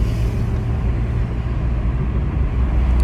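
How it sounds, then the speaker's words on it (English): A Porsche engine rumbles steadily at a distance, a continuous low drone blended with road traffic noise and no distinct revs. "that Porsche sounds sick"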